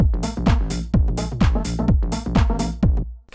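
Filtered electronic outro loop with the hi-hat and top loop removed, leaving a pumping kick-driven groove of repeated bass-heavy chord stabs at a steady tempo, loud and alone.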